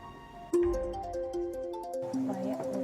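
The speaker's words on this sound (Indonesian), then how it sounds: "Maya, bentar ya, Endu, gue angkat telepon dulu." A mobile phone ringtone plays a melodic run of bright, sustained tones with a stepped pattern, fairly clear over a quiet room with low background sound, and the tune changes pitch partway through.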